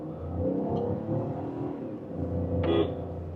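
A Citroen Basalt's engine pulls hard up a hill, a steady close drone that stays loud and swells slightly near the end, with no talking.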